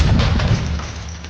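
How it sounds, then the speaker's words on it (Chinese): A rocket fired at a man in an action-film fight, bursting in a loud, dense boom whose low rumble fills the whole moment and slowly thins out, with no voices. "一发火箭弹就朝着他射了过来"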